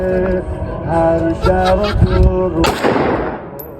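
At a shooting range with balloon targets, a single sharp gunshot cracks near the end and its echo trails off. Voices and tonal sounds come before the shot.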